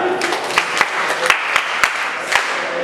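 An audience at an English club summit claps, thin and uneven, with several sharp, louder individual claps standing out close by over a softer spread of applause.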